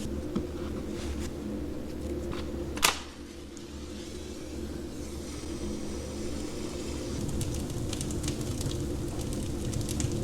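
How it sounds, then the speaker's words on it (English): A wood fire burns with a soft, steady crackle and hiss, joined near the start by one sharp pop, and continues evenly at low volume without any voices. "That's a fire right there."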